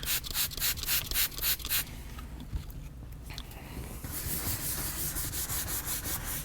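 Gentle scrubbing of a leather car seat in a Bentley Continental GT, a soft rhythmic brushing rub that comes in quick strokes at first, pauses, then continues as a steadier close friction sound.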